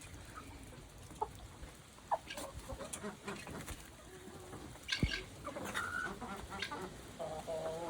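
Chickens cluck and roosters call in scattered bursts, fairly faint and distant, with some background shuffling.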